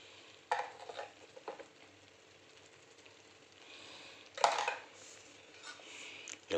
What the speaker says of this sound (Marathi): याला व्यवस्थित हलवू